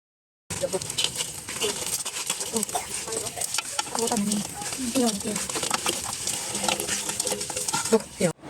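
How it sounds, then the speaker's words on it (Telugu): Fried mutton pieces are stirred into spiced oil and chilli for pickle, giving a steady scraping, wet stirring with light sizzle, close and continuous, while a person talks throughout. "మన వేయించిన ముక్కలు అయితే అందులో వేసుకొని మంచిగా అంతా కలిసేలాగా కలుపుకోవాలి"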